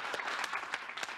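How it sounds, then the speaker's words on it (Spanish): A television studio audience breaks into steady, dense applause to welcome a guest onto the set, sustained and even for the whole short stretch with no talk over it. "lo vamos a recibir con un aplauso"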